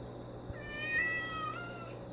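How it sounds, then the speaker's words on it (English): A house cat meows in a rising, wavering cry over a quiet room hum, one drawn-out call lasting about a second, fairly close and moderately loud. "this cat does this all the time"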